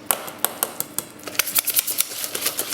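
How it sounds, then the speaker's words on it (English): A whisk stirs corned beef pie filling in a bowl, giving a run of quick, sharp clinks and scrapes, irregular at first and then faster and steadier, close and fairly quiet, with no voices. "I'm just going to mix it around. Don't need to get a potato masher, a whisk is fine."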